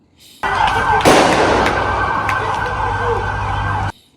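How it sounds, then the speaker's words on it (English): Sharp bangs, explosions or gunshots, burst out over a steady hum of street noise in Los Angeles during looting, one loud crack followed by a few fainter pops, with a siren-like tone running throughout. "You hear explosions, gunshots, or both in the background"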